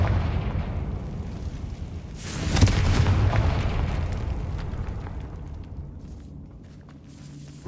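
A Confringo spell explodes in Hogwarts Legacy, a deep rumbling boom that swells after a couple of seconds and slowly fades, with a few faint footsteps around it.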